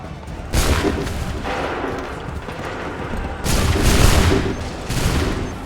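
Musket volleys crash out from ranks of soldiers in Assassin's Creed 3, two loud massed bursts of gunfire roughly three seconds apart, each followed by a rumbling tail, with battlefield noise between.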